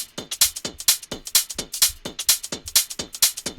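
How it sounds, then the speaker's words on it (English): Layered hi-hats, including a metallic-sounding one, tick in a busy, syncopated house music groove, with bright crisp hits over faint low thumps in a fast, repeating pattern. "So all the hats together sound like this."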